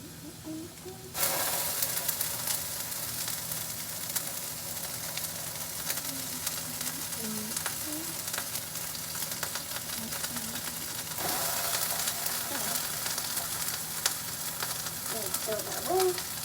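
Chorizo fries in a pan beside potatoes, starting with a sudden loud, continuous sizzle that hisses steadily throughout, with a faint voice in the background.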